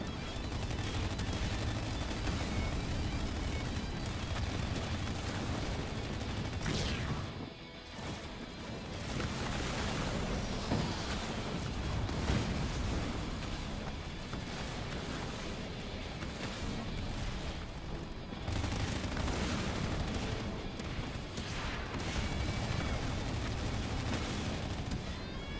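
Kodiak artillery units fire in a Halo Wars 2 battle, a dense, continuous barrage of heavy booms, gunfire and explosions that keeps up loudly for the whole stretch, with only a brief dip partway through.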